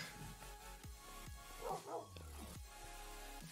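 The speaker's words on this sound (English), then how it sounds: "No idea why there's so many dogs there." Several dogs in the Minecraft video game bark and yip in a repeated series of short, sharp sounds over steady game background audio.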